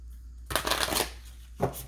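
A deck of cards is cut and a card pulled, giving a close burst of riffling and slapping cards that lasts about half a second, then a short soft card snap after a pause.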